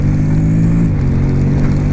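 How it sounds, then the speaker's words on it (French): A 2021 Honda X-ADV 750 scooter accelerates hard as its gearbox drops two gears: a loud, close, steady engine drone whose pitch shifts partway through the short burst. "dès qu'on veut une réponse plus violente on accélère, hop, la boîte fait tomber 2 rapports"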